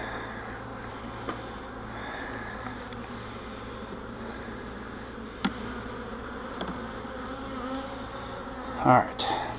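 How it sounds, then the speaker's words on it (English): A small cloud of angry bees buzzes close by at an open hive during queen rearing work, a dense continuous drone broken by a few sharp clicks and brief louder bursts near the end. "There was a small cloud of what seemed to be angry bees"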